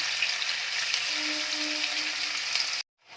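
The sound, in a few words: chicken pieces frying in a pan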